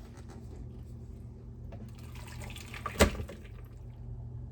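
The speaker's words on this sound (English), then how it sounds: "I'm going to take it off the heat and drain the grease. I have a bowl underneath the strainer to catch the grease." Grease from browned lasagna meat drains through a strainer into a bowl underneath, a steady close trickle with a brief louder splash partway through and no voices.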